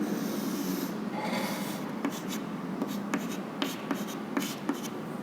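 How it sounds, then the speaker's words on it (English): Pen scratching across a surface while drawing a triangular pressure-distribution diagram for a fluid mechanics lesson, with soft continuous rubbing punctuated by several sharp strokes and taps, close and fairly quiet, with no talking. "So here the pressure force will be normal. So, and how is the pressure distribution? It is triangular. Okay, so I will draw the pressure distribution."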